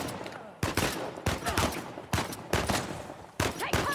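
Rapid gunfire from an ambush in Uncharted: The Lost Legacy, several loud bursts of automatic shots following each other closely, sharp and near.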